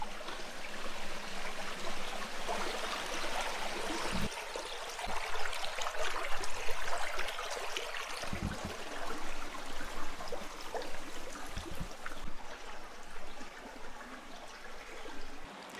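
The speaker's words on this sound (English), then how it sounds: "there's the river that runs down into the lake" A river running down into a lake, heard as a steady, close rushing and trickling of water across the whole stretch, with a few brief low knocks breaking through the flow.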